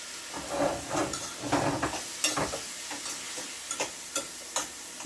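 Canned callaloo being stirred in a pan over a gas flame, a steady sizzling hiss with repeated soft scraping strokes of a spoon, close and fairly even, with no talk.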